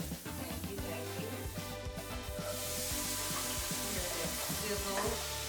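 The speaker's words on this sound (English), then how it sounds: "Sizzle." Red and green bell peppers sizzle in an oiled pot in a home kitchen, a soft continuous frying hiss with faint stirring clatter, fairly quiet.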